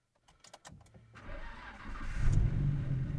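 A Nissan GT-R starts up: a few clicks and a short crank, then the engine catches and settles into a loud, deep, steady idle, heard close with no one talking.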